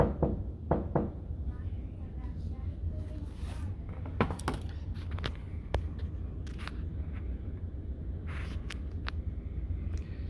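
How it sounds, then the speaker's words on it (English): Knuckles rap on a window pane in several short, sharp knocks, a quick pair near the start and further scattered raps, over a steady low background hum, with occasional voices nearby. "Let me knock on the window."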